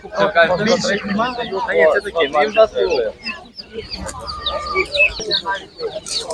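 Czech-breed chickens cluck at an outdoor animal market in Ivano-Frankivsk, their calls close by but mostly buried under near, continuous talk from people among the stalls.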